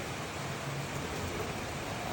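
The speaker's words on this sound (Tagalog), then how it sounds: "Ayan, lakas ng ulan." Heavy rain falls steadily as a dense, even broadband hiss, close and constant for a couple of seconds with no talking.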